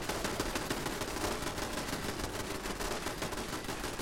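Automated turrets fire in Fallout 76 as a sustained burst of rapid gunfire, loud and close, with dense overlapping shots continuing without pause.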